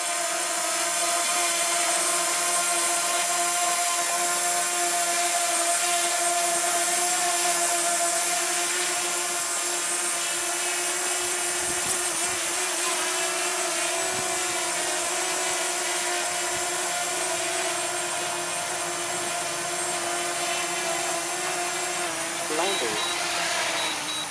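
A DJI Mavic Mini drone fitted with Chinese propellers hovers in a light breeze, a steady high-pitched whine and buzz droning continuously and fairly loud throughout.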